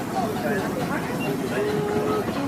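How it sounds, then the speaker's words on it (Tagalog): A train pulls away from a station, giving a steady rumbling hum and rolling noise with faint squeals, while nearby voices talk over it. "Bye bye muna yung train anak."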